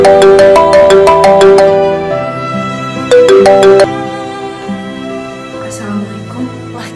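An incoming call sets off a mobile phone ringtone, a bright melodic chime played in quick repeated note runs, pausing and then returning, with a soft backing tone continuing underneath and fading toward the end.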